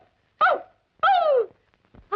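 A man imitates a dog, giving two short bark-like yelps and the start of a third, close and clear with no other sound between.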